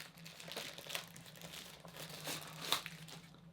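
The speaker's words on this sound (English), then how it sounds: "Let's unwrap it." A DJI Avata motion controller is unwrapped from its packaging, giving close, continuous crinkling and crumpling with a few short tearing bursts and no talking.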